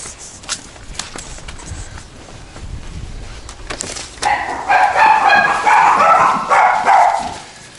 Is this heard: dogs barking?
yes